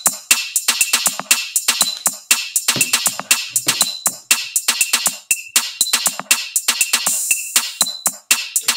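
Programmed drum loop in Soundtrap, with busy syncopated snare and kick hits under bright cymbals, repeating as a dense, loud, steady loop with no voices.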